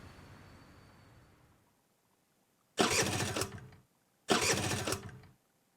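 A motorbike engine fails to start: two loud, close bursts of starter cranking, each about a second long and separated by a short pause, follow a fading low rumble and a moment of silence. No voices.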